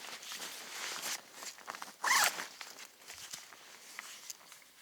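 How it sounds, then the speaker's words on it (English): A military sleep system bag being zipped up outdoors: a sustained rustling zipper pull rises to one sharp, loud rasp midway, with soft fabric shuffling before and after and no talking. "we can zip her up."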